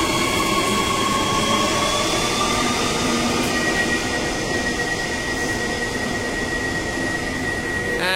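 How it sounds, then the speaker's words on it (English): A Mandurah line passenger train pulls away from a station with a loud, steady rumble and rising electric motor whine, continuous and close, with no talk. "Off it goes. That is the last Mandurah train for the day."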